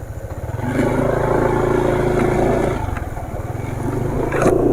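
A diesel engine idling steadily on Fastron diesel oil, a continuous low rumble with a coarse, rough knock, close and fairly loud throughout, with no one talking.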